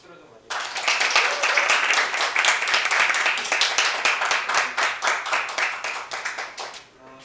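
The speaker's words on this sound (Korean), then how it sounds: "박수로 좀 맞이해주세요." Applause from a seated audience welcoming a speaker to the stage for a talk on overcoming depression, starting abruptly and holding a dense, steady patter of claps for about seven seconds before tapering off.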